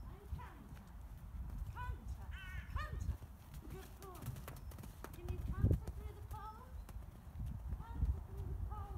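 Horse cantering on the lunge, rhythmic hoof beats on soft ground repeating steadily, with someone talking over it and birds chirping in the background.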